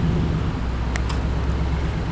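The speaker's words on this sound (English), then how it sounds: "Another tough sounding SS Commodore." Holden SS Commodore with a V8 engine burbling, a steady low rumble from a nearby car with a couple of brief clicks partway through.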